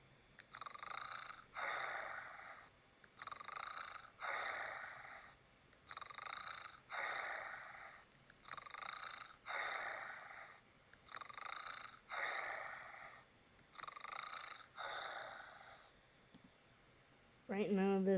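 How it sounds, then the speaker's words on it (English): A sleeping Pokémon plush or toy character snores in a slow, regular rhythm, about a dozen soft breathy snores, each in a double-pulse pattern, steady and fairly faint throughout. "Right now, this is just Lucario snoring."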